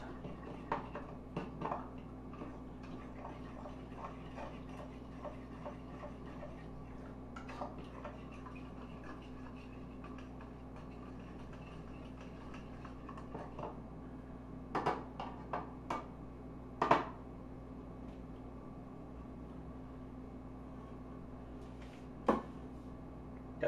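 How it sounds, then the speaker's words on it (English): Spoon or whisk clinking against a bowl while ingredients are mixed for a slow cooker pot roast, a faint, irregular run of light taps with a few sharper knocks, in a quiet kitchen with no talking. "You just mix it until it's thoroughly mixed."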